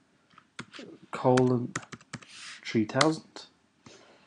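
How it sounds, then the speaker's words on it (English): Keystrokes on a computer keyboard while entering a localhost address into a web browser, several short clicks scattered between stretches of close male speech. "if I type in localhost"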